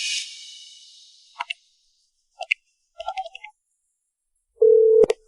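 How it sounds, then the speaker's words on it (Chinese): A telephone is dialed with a few soft clicks and short blips, then a single steady call-signal tone sounds clearly for about half a second at the end. "给庄13打电话。"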